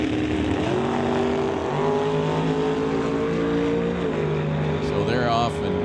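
Drag racing cars, including a '63 Corvette, roar down a quarter-mile strip with loud, sustained engine tones that step in pitch as they shift gears, ending in a quick rising sweep.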